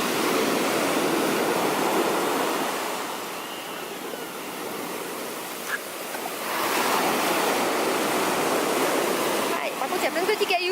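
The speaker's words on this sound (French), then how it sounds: "On va attendre qu'il y ait une petite vague qui vienne." Small waves breaking and washing over wet sand and pebbles on a beach in Porto, a steady broad surf wash that dips briefly midway before swelling again, with faint wind noise at the microphone.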